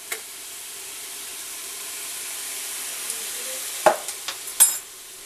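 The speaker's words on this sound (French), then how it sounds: "On mélange un petit peu." Food being stirred in a hot pan, a soft low sizzle running throughout with a few sharp scrapes and clinks of the utensil near the end, with no talk.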